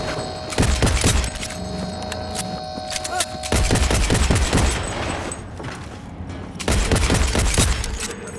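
Repeated bursts of automatic gunfire in the video game Cyberpunk 2077, three loud volleys separated by short gaps, with a voice talking over parts of it.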